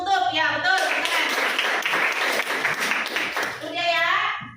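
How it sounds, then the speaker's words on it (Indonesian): Children in a classroom clap their hands together in a burst of dense applause lasting several seconds, with chatter before and after. "Tepuk tangan."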